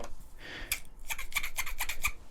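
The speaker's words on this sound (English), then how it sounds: "A nice pair of scissors." Scissors from a Milwaukee Packout first aid kit being handled, a quick series of close, crisp snipping clicks and light metallic rubbing, faint and alone.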